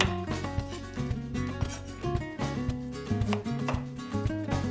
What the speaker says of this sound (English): Dice 1 kilo potatoes.